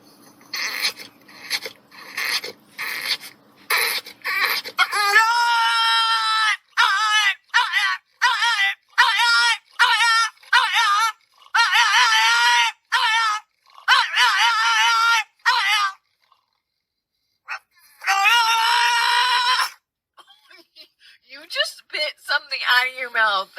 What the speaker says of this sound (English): that dog was cussing like that because he had to sit in the basket